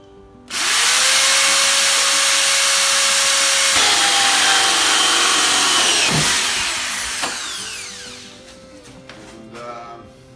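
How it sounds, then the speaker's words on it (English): A power drill whines loudly and steadily for several seconds, boring holes through PVC pipe for a hydroponic garden, then slows and winds down with rattling afterward. "We're drilling these holes in this PVC pipe."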